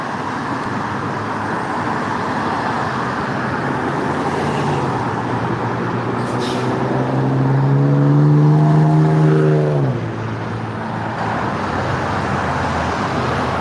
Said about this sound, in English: we got a Georgia State Patrol vehicle sitting second in line there, gonna turn right here